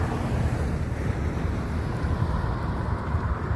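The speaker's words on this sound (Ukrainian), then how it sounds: "Проходиться такий вітер" Strong, continuous wind rumbling and buffeting the microphone outdoors, with a faint wash like distant surf.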